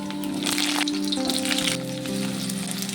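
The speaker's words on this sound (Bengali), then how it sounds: "আলুটাকে একটু ভেজে নেব।" Potatoes fry in hot white oil in a wok, giving a steady, close sizzle with bursts of crackle and spatter and no talk over it.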